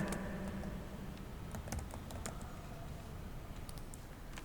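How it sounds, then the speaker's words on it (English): Steady typing on a computer keyboard, entering a Python program, with quick light key clicks in an uneven rhythm over a soft background hiss. "here you can type the program"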